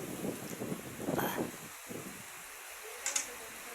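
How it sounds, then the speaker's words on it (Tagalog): Steady wind roars and buffets the microphone with a broad rushing noise during a storm with heavy rain, gusting stronger at moments, with faint rustling and no voices. "Lumakas talaga ang hangin."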